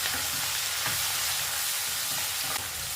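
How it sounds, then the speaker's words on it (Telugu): Cluster beans curry sizzles steadily in a hot pan as coriander leaves go in, a close, even frying hiss with faint stirring knocks and no talk. "ఇది కొత్తిమీరాకు వేస్తున్నాను."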